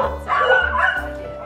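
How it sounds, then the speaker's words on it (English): Pet dogs in a home bark and yip excitedly in a continuous, overlapping stretch, fairly close with whiny high-pitched cries mixed in. "My dogs are going crazy"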